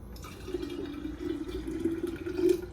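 Homemade watermelon juice pours into a container in a steady, close, moderately loud stream with a gurgling tone, no voices.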